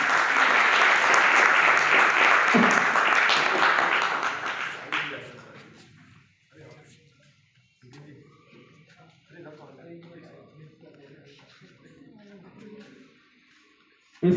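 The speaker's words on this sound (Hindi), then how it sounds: "जोरदार तालियां प्लीज" Loud, dense applause from a crowd at a cow protection awareness event at Jiwaji University, Gwalior, for about five seconds, then fading into quieter shuffling, murmurs and scattered room noise, with a burst of sound at the end.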